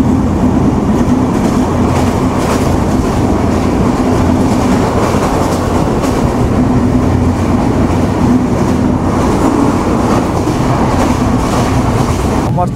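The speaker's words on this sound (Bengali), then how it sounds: "দুর্দান্ত গতির সাথে আমরা থ্রুপাস গেলাম আজিমনগর রেলওয়ে স্টেশন।" Riding aboard the Madhumati Express in LHB coaches as it runs through Azimnagar station at speed, a loud continuous rumble with rhythmic rail clatter and constant roar throughout.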